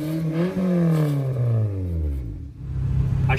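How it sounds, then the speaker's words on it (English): A GSR car engine revs through a custom-built twin loop exhaust, climbing and falling in a couple of loud, close blips with a rough idle settling in between. "Let's hear that twin loop exhaust that we built."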